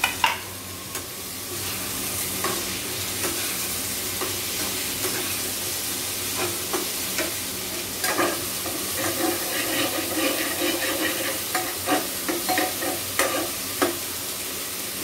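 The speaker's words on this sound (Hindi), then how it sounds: "ये अनियन, टमाटर दोनों भून गया है दाल के लिए" Onion and tomato sizzle steadily in a pan for dal, with continuous frying hiss and repeated scraping, clinking stirs throughout, close and fairly loud.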